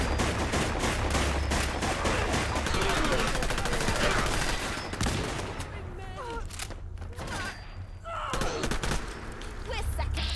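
Dense, rapid gunfire from a London-set post-apocalyptic shooter game, sustained bursts rattling through the first half and thinning to scattered shots, with game voices and combat noise underneath.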